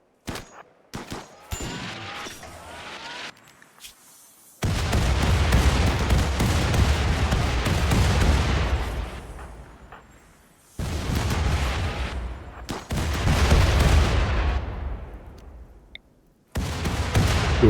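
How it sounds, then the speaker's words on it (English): Orbital bombardment in the video game RimWorld: heavy, rumbling explosions in long roaring bursts separated by brief quiet gaps, loud and booming, with scattered sharper blasts early on and no talking. "So I'll launch an orbital bombard for where the battlefield's probably going to be"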